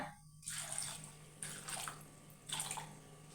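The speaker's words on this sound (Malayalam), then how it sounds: "എന്നിട്ട് നമുക്ക് കുറച്ച് വെള്ളം ഒഴിക്കാം" Water poured into a pot of mango pulissery curry with green chillies, three short splashing pours in quick succession, near and fairly soft, with no talk.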